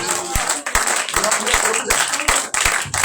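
A church congregation claps in a quick steady rhythm, fairly loud and filling the room, with voices mixed in over the applause.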